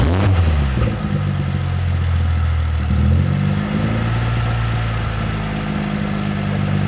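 A BMW M340i, modified into a budget supercar, cranks and fires up. The engine settles into a steady, close, low idle with a small dip in revs partway through. No one talks.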